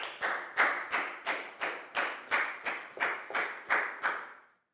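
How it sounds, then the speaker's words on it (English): About eleven sharp, evenly spaced claps ring out in a Year 4 maths classroom, each with a short tail, in a steady rhythm roughly two per second, close and clear with no talk over them. "High five and a big round of applause for down"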